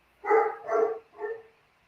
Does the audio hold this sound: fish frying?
no